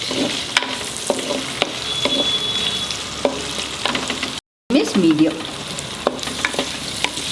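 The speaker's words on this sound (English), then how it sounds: "stirring it and frying it." Steady sizzling of onions frying in a pan, with scraping stirs now and then, a brief gap, and a short spoken remark near the end.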